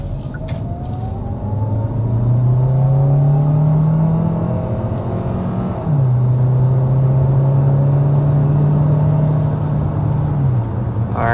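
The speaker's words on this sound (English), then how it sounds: "first we need to go ahead and start with a hard acceleration" A 2026 Hyundai Santa Fe Hybrid accelerating hard up to 60 mph: a loud, close engine drone climbing steadily in pitch. It drops once at a gear change and then climbs again, with road rumble underneath.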